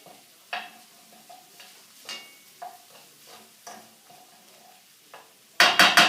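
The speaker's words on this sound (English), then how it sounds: "I'm going to add my peppers. Let them saute a little bit." Chorizo, onions and peppers sauté in a pan, with light sizzling under repeated scraping and clinking of a spatula against metal, ending in a louder burst of frying.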